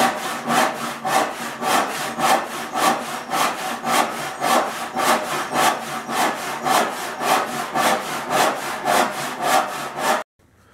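Steady back-and-forth strokes of a handsaw cutting through a cherry board, about two strokes per second, close and loud, continuing evenly for ten seconds before stopping abruptly.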